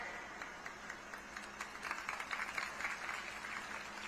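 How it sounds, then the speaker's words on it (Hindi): Audience applause at a political rally in Chhattisgarh, a steady wash of many hands clapping throughout, moderately distant and swelling slightly toward the middle, with no talk over it. "आपने ताली बजाई"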